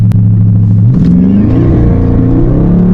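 Dodge 392 Scat Pack V8 revving at full throttle, a loud close engine note whose pitch climbs steadily as it pulls hard, with no talk over it.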